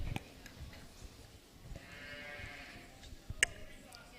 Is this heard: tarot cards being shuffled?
no